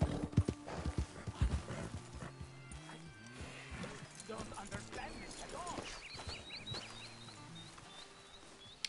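Horse hooves clip-clop in Red Dead Redemption 2, a run of irregular thuds early on that settles into steady trotting, with a whinny and bird chirps over ambient game sound.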